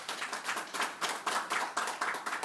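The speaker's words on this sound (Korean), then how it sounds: "여러분들도 박수를 한번" An audience at a product presentation claps in a steady, rhythmic unison, about a dozen evenly spaced beats of close, fairly loud clapping with no talk over it.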